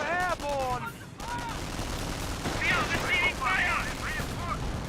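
Rifle fire in the World War II strategy game Company of Heroes, bursts of small-arms shots cracking over battle noise, with chirping effects and a voice talking over parts of it.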